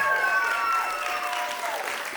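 Studio audience applauding at a cookie baking competition final, a short burst of steady clapping and cheering heard clearly, with a brief tonal accent fading near the start.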